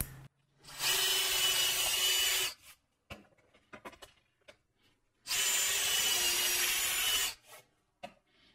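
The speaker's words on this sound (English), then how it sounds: "I'm going to drill a small pilot hole first." A drill bores a small pilot hole into soft wood in two loud, steady whining bursts of about two seconds each, with quiet handling clicks and rustles between them.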